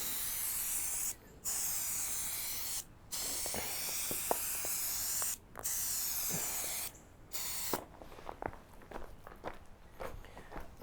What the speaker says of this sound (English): The can like freaking leaks out paint from behind the sprayer head.